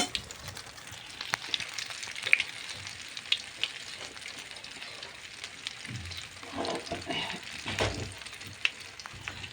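An egg frying in a pan, a soft continuous sizzle and crackle with small pops, close and fairly quiet, with occasional stirring or scraping toward the end.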